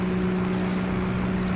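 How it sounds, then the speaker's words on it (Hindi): A steady, even motorboat engine drone with a low throbbing hum that holds constant throughout, loud and close, with no voices. "ये कोई मोटर बोट की आवाज है"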